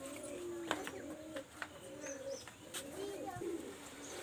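Golden Teddy pigeons coo softly in repeated low, rolling calls, faint and close, with a few sharp clicks and rustles in the background.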